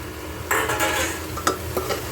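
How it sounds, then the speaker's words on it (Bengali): Soaked rice and lentils tipped into a pan and stirred to fry, giving a few sharp utensil scrapes and clatters against the pan over a faint sizzle, close and fairly loud with no talking. "এগুলোকে দিয়ে কিন্তু একটু নাড়াচাড়া করে ভাজতে হবে। তো এই আমি দিয়ে দিলাম চাল ডালটা"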